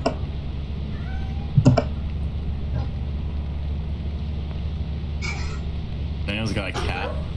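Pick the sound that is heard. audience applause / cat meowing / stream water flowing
cat meowing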